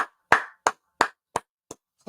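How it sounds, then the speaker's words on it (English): Hand clapping: six or seven sharp, close claps at an uneven pace, separated by silence, with a voice starting up at the very end. "clap it up for Dre"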